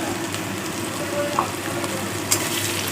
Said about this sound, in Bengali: সব দেওয়া হয়ে গেছে, এবার মশলাটা ভালো করে নাড়াতে হবে।